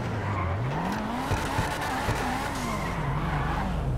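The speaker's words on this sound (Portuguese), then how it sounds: "Eita, que esse aqui é bom dos drift." An RT3000 drifting in GTA V, its tires squealing in long sliding tones over a steady engine roar, the pitch rising and falling as the car slides, loud and continuous throughout.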